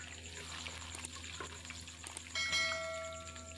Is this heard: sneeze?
no